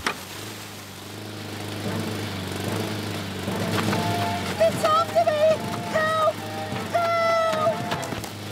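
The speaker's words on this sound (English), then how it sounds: "that's a petrol lawnmower" Petrol lawnmower engine in a cartoon, a steady low drone running throughout with voices and bright musical or cartoon tones layered over it in the second half.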